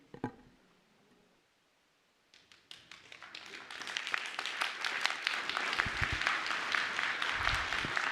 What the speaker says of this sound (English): please hold your applause until a speaker is concluded